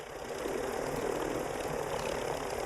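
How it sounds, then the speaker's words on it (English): Helicopters in Warzone 3 make a steady, droning rotor and engine whir that holds at an even loudness throughout, with no voices over it. "Some more choppers out here."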